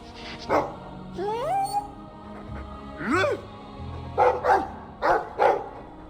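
A dog in the video game Dragon Age II gives several short barks and yips with whining, rising calls, mixed with a voice talking over it.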